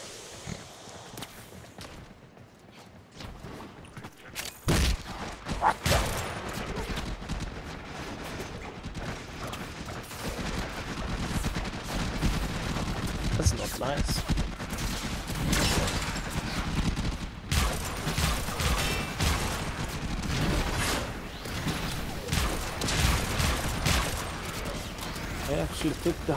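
Rapid gunfire from shooting in Warframe, a dense sustained barrage of overlapping shots after a quiet opening, continuing steadily with brief lulls at moderate loudness.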